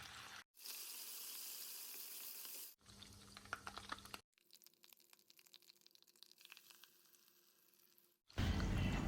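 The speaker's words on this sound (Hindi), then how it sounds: "इस ऑयल में हम सबसे पहले जो अदरक लहसुन का पेस्ट है उसको अच्छे से पका लेंगे" Ginger-garlic paste sizzles and fries in hot oil in a pan for fish curry, a loud steady crackle broken by short gaps where it drops out, then returns with a louder burst at the end.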